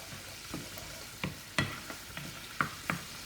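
Wine bubbling down in a hot cooking pan, a faint steady sizzle broken by several sharp stirring scrapes and taps, close and quiet with no speech.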